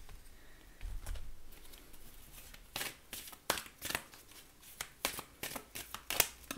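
Oracle cards being shuffled by hand, heard as quiet rustling at first, then a run of sharp, close riffling flicks and snaps in quick bursts over a soft hiss.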